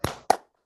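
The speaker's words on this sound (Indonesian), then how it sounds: "Mas, tepuk tangannya" Two sharp hand claps, close and fairly quiet, about a quarter second apart, followed by silence.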